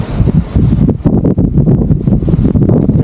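Strong typhoon wind during a signal number 4 storm in Pangasinan, loud, rough gusts buffeting the microphone with heavy low rumble and rustling, steady and close throughout.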